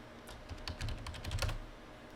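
Keys clatter on a computer keyboard as a command is typed into a prompt window, a quick uneven run of close, light clicks with no talking.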